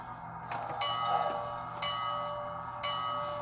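Bachmann GS4 Southern Pacific 4449 model steam locomotive's sound-decoder bell, clanging three times at an even, slow pace with ringing tones that decay between strikes, faint and tinny over a low electronic hum.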